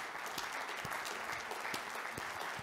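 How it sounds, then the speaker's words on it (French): An audience at a plenary debate session claps continuously, a dense, even round of applause heard from a distance at low volume. "Si j'en avais autant d'applaudissements, je commençais à être jaloux."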